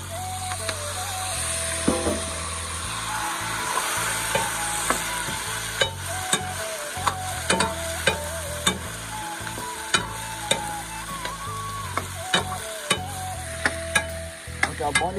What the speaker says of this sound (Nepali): आलु फ्राई हालिदिनु पर्यो